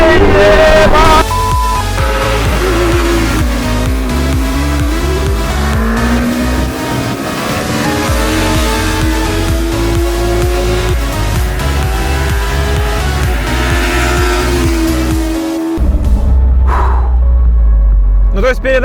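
A Soviet invalid carriage microcar with two engines drives along, its small engine buzzing loudly and revving through uneven gear changes, while occupants talk and exclaim over the steady mechanical drone before it cuts out near the end.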